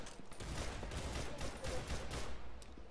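Gunfire from the Roblox game Arsenal comes as a dense, continuous rattle of rapid shots that stays fairly quiet throughout, with a few sharper cracks near the end.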